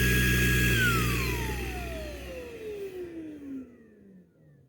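A VacLife VL732 stick vacuum runs loud at high power, then its motor winds down with a falling whine and fades to near silence by the end.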